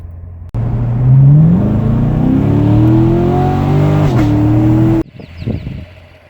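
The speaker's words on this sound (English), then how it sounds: "you hear an explosion sound between shifts when you shift in the higher RPMs at wide open throttle" Chevrolet C7 Corvette at wide open throttle, a loud exhaust roar climbing through high revs, a brief sharp break at a shift, then the sound cuts off and a few pops and crackles follow.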